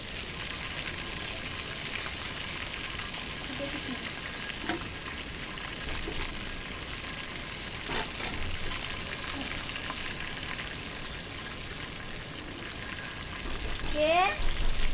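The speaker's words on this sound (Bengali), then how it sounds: "চিকেন ভাজা হচ্ছে।" Chicken frying in a pan at home gives a steady, close sizzle that carries on throughout, with a few soft clinks and a brief higher squeak just before the end.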